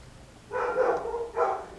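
Dogs bark at a stray cat near a garage, two loud, close barks in quick succession with no talking.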